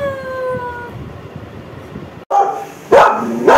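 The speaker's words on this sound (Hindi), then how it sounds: "अपने आप को देख के भौंक रहा है शीशे में।" A pet dog barks at its own reflection in a mirror indoors, a couple of sharp close barks after a stretch of low room noise and a fading tone.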